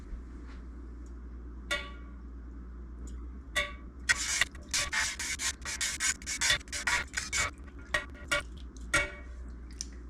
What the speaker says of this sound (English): we just put the whisk straight in and bring it straight back out, just like that